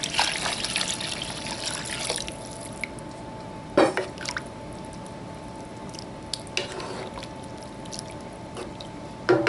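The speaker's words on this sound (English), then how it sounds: "now we want to add 6 cups of water" Water poured into a hot pot of jambalaya on a stove, a steady trickling and dribbling with a faint sizzle underneath, close and continuous for several seconds.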